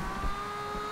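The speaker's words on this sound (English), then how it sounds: "Engine sounds brilliant, love it." A 1969 Nissan Fairlady Z engine in the racing game Forza Horizon 2 holds a steady, buzzing drone at constant revs for about a second, with no talk over it.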